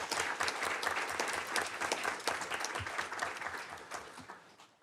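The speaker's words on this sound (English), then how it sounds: "Give her a round of applause." A school board meeting audience gives a round of applause for a staff member. Many hands clap steadily, fairly close but not loud, then the clapping thins and tapers off near the end.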